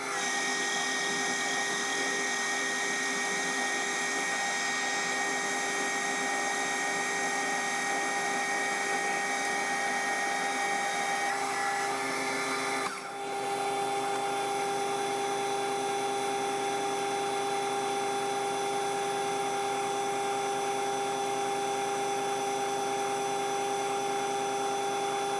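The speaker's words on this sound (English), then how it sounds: "I've got to machine up a pin to suit that now." A lathe turns a pin from 1.25-inch steel shaft, a steady whining machine tone with strong tonal harmonics, broken by a brief dip near the middle before resuming unchanged.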